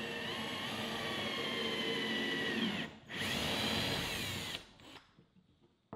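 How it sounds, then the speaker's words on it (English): A power drill whines steadily at close range while drilling holes in acrylic, briefly stopping and restarting before winding down near the end. "I'm gonna flip it over and we have to drill those holes"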